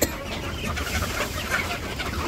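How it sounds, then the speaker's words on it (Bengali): Village chickens clucking in a small flock, a close, busy stream of overlapping clucks and short calls with no speech over them. "আমাদের মুরগিগুলো অনেক ভালো হয়েছে।"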